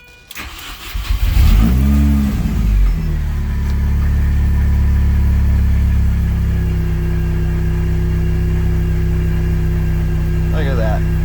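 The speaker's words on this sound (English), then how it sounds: "As you hear this new fuel pump, how much louder it is." Car engine with a new, louder fuel pump cranking and catching, revving up sharply, then holding a loud, steady idle with a constant drone close by.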